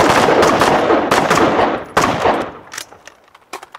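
Carbine fires in rapid strings on an outdoor training range during a speed reload drill, loud sharp close shots in quick bursts, then a pause and a few scattered shots near the end.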